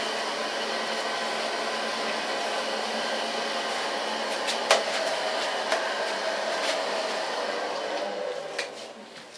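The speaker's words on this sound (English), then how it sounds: "So far blow drying," A hair dryer blows hair dry in a steady, moderately loud whoosh that runs continuously, with a few faint clicks and rustles of handling over the airflow and no talking.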